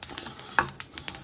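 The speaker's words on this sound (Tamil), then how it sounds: "எள் பொரியற சவுண்டு கேட்குது பாருங்கள், எள் வறுபடுதுன்னு அர்த்தம்" White sesame seeds roasting in a pan, with a soft background crackle and a run of sharp little pops and ticks scattered irregularly across a short moment, nearby and with no voices.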